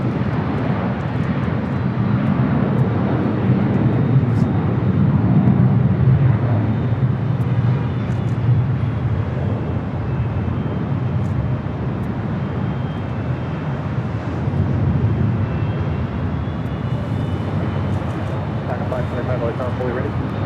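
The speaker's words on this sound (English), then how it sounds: "We have Florida 1 about to touch down here." A Boeing 737-700 in Florida One special livery touches down at LAX, a steady, fairly loud jet rumble that holds for the whole stretch while a voice talks over it.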